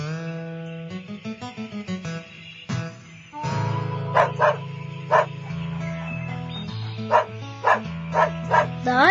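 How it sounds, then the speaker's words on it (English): A farm dog barks in a series of sharp, loud yips over a gentle musical backing, the barks coming in short rhythmic bursts. "The dog."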